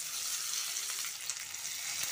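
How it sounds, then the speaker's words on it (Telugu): Sliced onions fry in hot ghee, making a steady, faint, hissing sizzle with light crackles and the occasional clink of stirring, with no voices. "ఇదే నెయ్యిలోకి నేను ఆనియన్ వేపుకుంటున్నాను"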